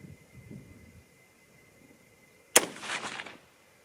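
A single sharp 6.5 Creedmoor rifle shot firing a Sierra 120-grain bullet cracks out loud and close, followed by a brief rolling echo after a quiet, faintly rustling lead-in.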